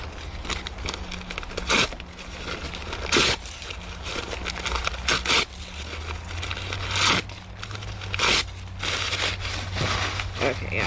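Shredded paper is crumpled by hand for worm bedding, giving repeated bursts of crinkling and crushing at irregular intervals, close and moderately loud, with a voice talking between them.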